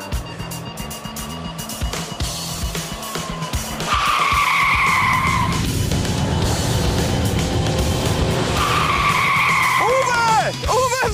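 A car's tires squeal and skid under hard braking on a test track, two loud, sharp screeches with rising and falling pitch over the steady engine noise, a voice talking briefly in the background.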